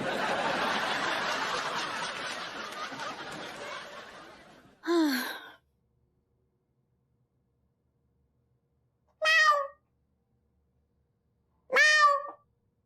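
A cat meows three times indoors, each a short, clear, fairly close call separated by silences, following a stretch of louder mixed noise and a gasp-like sound at the start.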